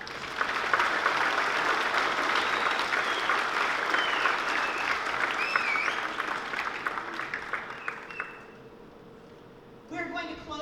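Concert audience applauding student band soloists at a 7th grade spring band concert, sustained steady clapping for about eight seconds that thins out and fades, followed by a brief faint stir.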